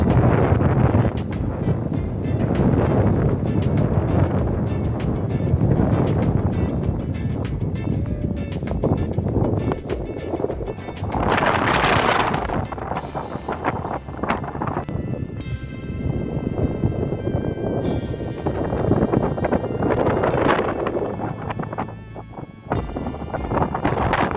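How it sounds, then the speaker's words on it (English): Strong wind on a chalk clifftop at Birling Gap buffeting the microphone in loud, continuous gusts, with a low roar that swells and eases but never stops. "It's very windy."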